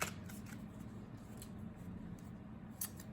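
A deck of cards is shuffled quietly at close range, soft riffling flutters with a couple of sharper snaps, low and faint in a quiet room.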